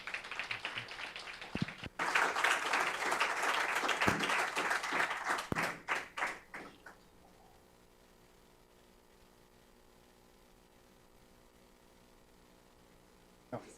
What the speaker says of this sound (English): So let us give a big round of applause.